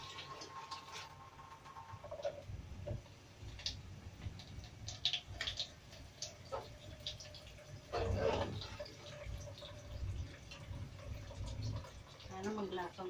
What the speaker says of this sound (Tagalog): Lagyan po natin ng tubig.